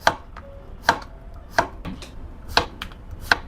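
Zucchini being chopped with a knife on a cutting board: about six sharp, close knocks at an uneven pace, ringing briefly against the board, with no one speaking.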